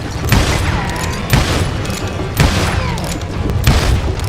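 Gunfire in the Western shooter Call of Juarez: Gunslinger: four loud, booming shots ring out at roughly one-second intervals, each with a short echoing tail over steady background noise.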